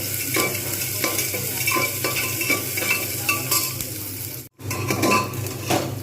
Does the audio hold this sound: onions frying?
yes